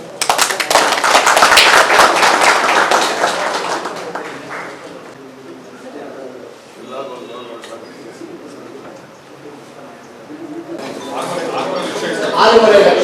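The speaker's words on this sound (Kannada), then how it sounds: "ಚಪ್ಪಾಳೆ" A crowd at a retired employees' meeting claps in a burst of applause that fades, with a quieter stretch of scattered sounds and talk before the clapping swells again near the end.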